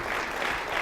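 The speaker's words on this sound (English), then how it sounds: "everyone's clapping" Audience applause and clapping at a conference talk, a dense, steady patter of many hands lasting under a second at moderate volume.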